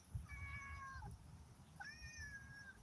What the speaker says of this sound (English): Lion the Wonder Cat is begging